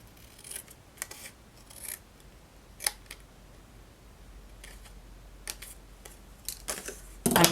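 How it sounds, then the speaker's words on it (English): Paper snips cutting through a large sheet of card-stock paper for a craft kit, making a series of short crisp snips spaced irregularly, close and fairly quiet, with a louder rustle at the end. "And then I'll take my paper snips."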